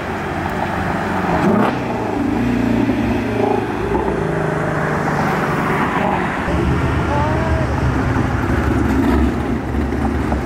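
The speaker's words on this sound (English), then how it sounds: "Got Mr. Mike pulling up in the H1." Hummer H1 pulling up at a car meet: a loud, steady engine rumble with a deep low drone close by, blended with outdoor crowd noise and some background chatter.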